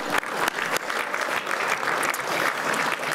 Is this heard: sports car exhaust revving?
no